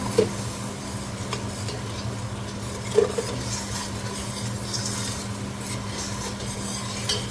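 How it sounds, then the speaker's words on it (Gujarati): Onion tempering with whole spices sizzles steadily in a pan while a spoon scrapes and stirs, with a couple of brief clinks over the continuous frying hiss. "એમાં થોડાક આ ખડા મસાલા નાખી અને ડુંગળીનો વઘાર કર્યો છે"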